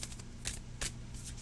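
A deck of oracle cards being hand-shuffled, with quick papery slides and flicks in a few close bursts separated by short pauses.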